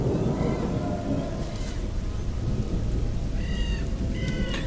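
Steady rain pours throughout in the game Gothic, with a low thunder rumble beneath it and a few faint bird-like chirps near the end.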